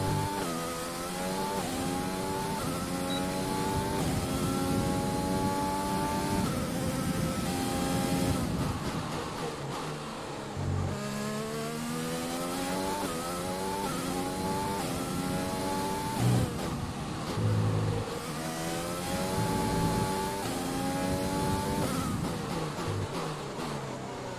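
A Formula 1 car engine screams at high revs in the F1 2020 racing game at Bahrain, with rising and falling pitch through gear changes and steady loud running for the whole stretch, alone with no talk.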